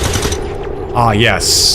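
Bursts of gunfire from an XCOM firing squad in XCOM 2, loud rapid shots near the start and again toward the end, with someone speaking briefly between them.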